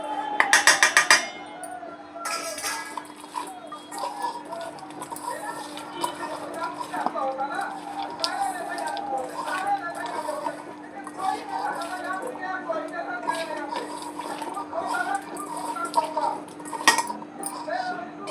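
Ingredients, with sesame oil, being stirred together in a bowl for a cucumber dish, giving a steady run of soft clinks and scrapes of a utensil against the dish under a person talking.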